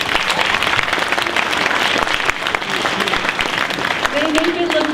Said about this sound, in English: how about a round of applause for that transition?